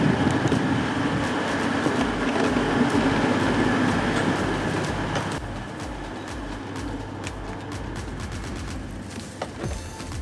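A passenger train bound for Chesterfield runs along the rails with a steady rolling rumble and rhythmic wheel clatter, plus occasional creaks and knocks from the carriage, heard from on board with no talking.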